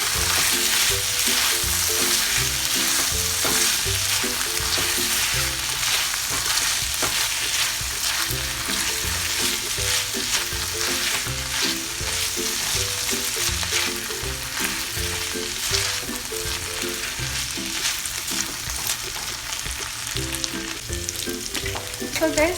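Pork frying in a pan until crispy for ginisang upo, a loud, dense, unbroken sizzle with crackling pops and occasional stirring scrapes, close up and with no talking.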